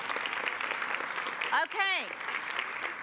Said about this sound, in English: Round of applause for our teachers.